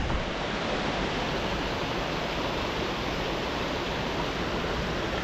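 Spring water pours continuously at the Honorato Ferreira waterfall in the forest, a steady, close, loud rushing roar that never lets up, with no voices.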